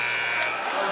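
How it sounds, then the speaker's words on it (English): Game clock buzzer in an ACC men's college basketball game, Stanford versus Georgia Tech, sounding as one steady, loud tone held for the whole moment over arena crowd noise. "Ndongo, 2, 1, at the buzzer, blocked by Reno"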